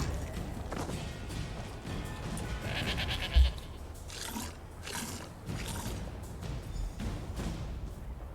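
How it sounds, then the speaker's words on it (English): A goat bleats in the video game Elder Scrolls Online, several wavering cries in the middle of the scene over game ambience and music, moderately loud and near. "There's the goat."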